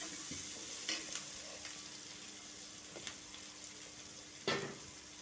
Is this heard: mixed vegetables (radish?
yes